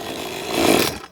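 A petrol chainsaw fires up and runs in a forest clearing, its engine snarling loud and close in one short rough burst that swells briefly before cutting off.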